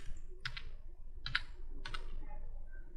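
Computer keyboard keys clacking in three short bursts of quick taps, spaced about a second apart, over a low steady room hum, with Bengali text being entered.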